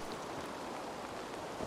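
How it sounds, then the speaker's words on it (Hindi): Steady rain pours down in Assassin's Creed Valhalla, a dense, even hiss of falling drops heard alone without pause. "बारिश हो रही है"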